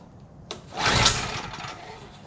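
A Power Stroke generator's small engine fires on a single pull, a short close burst of cranking and catching that settles into a running buzz.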